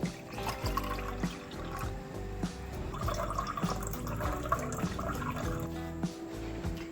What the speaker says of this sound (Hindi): सबसे पहले हम पानी ऐड करेंगे